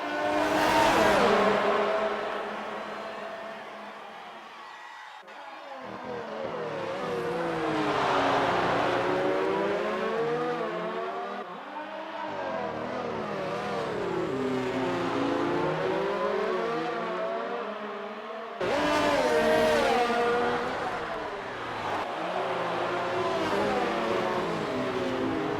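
Race cars in the Breakout Racing League video game at Baku roar continuously, engine notes rising and falling through gear changes as two cars battle closely, with a loud burst of revving near the end.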